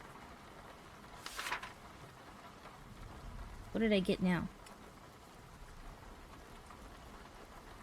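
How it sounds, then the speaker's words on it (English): Video game thunderstorm with steady rain falling throughout, faint and continuous, with a soft rumble underneath, while a person briefly speaks over it midway. "It's just lightning. I'm not scared of storms."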